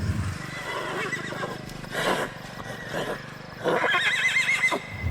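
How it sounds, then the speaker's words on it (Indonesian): A horse whinnies twice in a dark forest setting, first a rough, throaty neigh and then a louder, quavering high whinny. Both calls are close and clear over a steady low ambient bed. "nah di situ Mas Herman dengar ada suara rintihan kuda."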